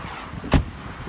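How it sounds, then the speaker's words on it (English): The hood of a 2016 Mercedes-Benz C300 4Matic is released with a single short thunk, close and fairly loud against a quiet background. "So I'll pop the hood, give you a quick look at the motor."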